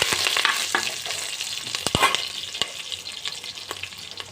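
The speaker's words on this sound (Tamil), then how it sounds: "ரெண்டு வர மிளகாய் போட்டு வதக்கிக்கோங்க நல்லா வதங்கட்டும்" Green and dried red chillies sautéing in hot oil for sambar rice, a steady broad sizzle with scattered clicks and stirring scrapes of a utensil against the pan, close and moderately loud, with no talking.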